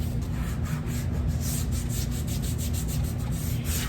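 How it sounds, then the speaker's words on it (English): A brayer is rolled back and forth over vinyl on a craft board, giving a continuous close rubbing and scraping sound with rhythmic strokes and no talk. "take your brayer and just rub it to make sure you get it nice"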